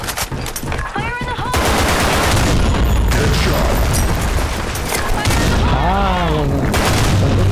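Gunfire in the shooter game Blackshot, dense bursts of automatic fire and booms continuing loudly throughout, with occasional whooshing effects and game sounds layered in.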